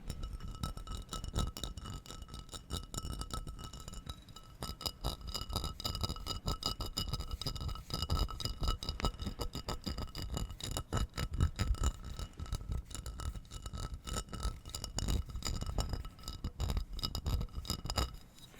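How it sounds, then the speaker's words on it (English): Fingertips and nails tap steadily on a glass bearing a small printed logo, a dense run of crisp, close clicks and ticks with a light resonant ring, continuing for the whole stretch in a quiet ASMR setting with no voice. "the last trigger for today will be the tapping glass sounds"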